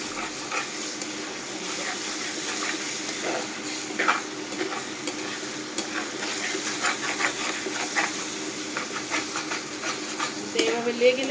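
Mashed vegetable bhorta stirred and scraped in a hot pan on the stove, with irregular spatula scrapes over a soft, constant sizzle and hiss, fairly quiet throughout.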